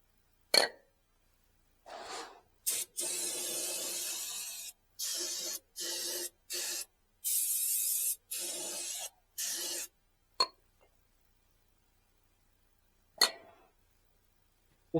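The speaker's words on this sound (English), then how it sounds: "Little brake cleaner." Brake cleaner from an aerosol can, sprayed on the drivetrain of a 1958 Willys, in a series of loud, close hissing bursts of one to two seconds, separated by short pauses, with a few sharp clicks afterward.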